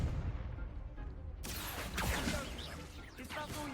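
A Confringo fire spell cast in the Hogwarts Legacy video game bursts in with a sharp onset, then roars and crackles in a dense blast over the rumbling background of the duel.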